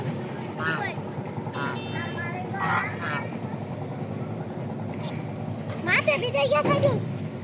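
A trawler boat engine drones steadily throughout on a river while people talk over it, their voices louder toward the end.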